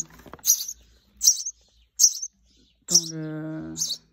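A small young bird that cannot yet fly gives about five sharp, high chirps in quick succession, close up and loud, separated by short silences.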